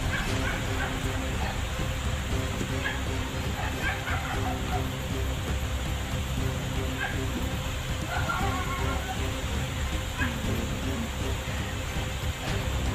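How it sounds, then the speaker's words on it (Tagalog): Dogs bark and yip intermittently in the distance over a constant low hum, the calls faint and scattered across the clip. "May aso na naman."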